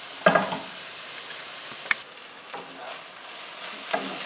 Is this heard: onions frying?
yes